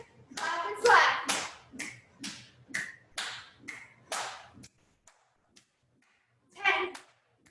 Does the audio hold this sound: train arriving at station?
no